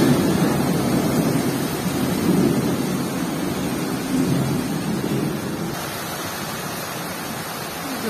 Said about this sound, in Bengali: প্রচুর ঝড় বৃষ্টি হচ্ছে, কারেন্টটাও চলে গিয়েছে